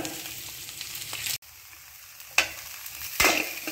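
Onion and curry leaves sauté in ghee in a pan with a steady close sizzle. A few sharp scraping stirs break through, with a brief drop to near quiet partway.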